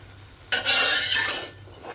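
Bihon noodles with fish balls and shrimps being stirred in a pan: one short scraping, sizzling swish of utensil against metal, close and fairly loud, fading after about a second over quiet background hum.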